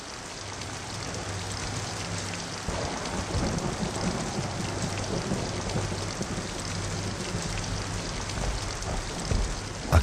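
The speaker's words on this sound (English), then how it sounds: "As he sat, the rain fell constantly." Steady rain pouring continuously, a dense even hiss of drops on surfaces with low rumbling beneath, close and unbroken throughout.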